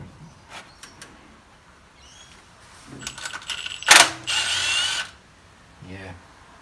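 Ratchet and tools working loose the bolts on a crusty 1974 ZG Ford Fairlane, with scattered clicks and clanks, then a sharp metallic burst and a few seconds of loud rasping, with no voices.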